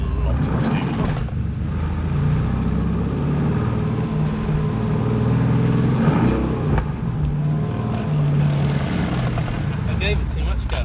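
Mercedes-AMG GT R drifting on a racetrack, its engine droning and surging in a continuous loud roar with shifts in revs, while someone talks over it.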